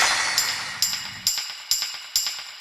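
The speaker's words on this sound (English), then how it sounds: "We've got a tambourine, we've got some claps, we've got a castanet, and then like an extra cymbal." A layered percussion part from an electronic track, with tambourine, claps, castanet and an extra cymbal. It plays as a wash of shimmer followed by sharp, bright hits landing in a steady even pulse, with no voices.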